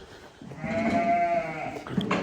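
A sheep in a farm pen lets out a single drawn-out bleat that wavers, close and clear, then a shorter call follows.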